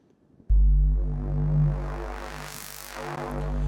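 Reese bass run through a Reason 8 state variable filter in bandpass mode, entering abruptly as a loud, thick sustained bass drone whose upper tone sweeps and swells over a few seconds.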